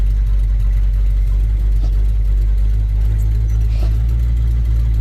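A 1975 Chevrolet K5 Blazer's engine runs loud and steady just after starting, a deep, even rumble with slight swells in revs and no voices.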